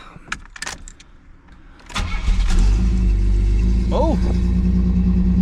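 A car with transmission problems cranks and starts after some brief handling noises, then settles into a loud, steady running rumble close by, with a short spoken exclamation near the start.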